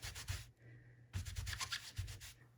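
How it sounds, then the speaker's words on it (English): A rubber stamp scrubbed rapidly back and forth on a scrubby pad, making close, loud, rhythmic rasping strokes in two bursts separated by a brief pause. "I'll just scrub that stamp real quick"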